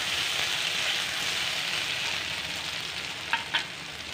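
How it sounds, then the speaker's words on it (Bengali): Potatoes frying with turmeric powder in mustard oil in a kadai, a loud continuous sizzle with two brief stirring clinks near the end, no voices. "আলুগুলোকে লাল করে ভেজে তুলে নেব।"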